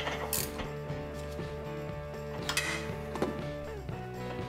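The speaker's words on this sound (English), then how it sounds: "Back with the install, 18mm ratcheting wrench." An 18mm ratcheting wrench working the nut on a Moog sway bar end link of a 2007–2014 Volkswagen Jetta, giving a steady run of close, rapid ratchet clicks with brief pauses and occasional metallic knocks.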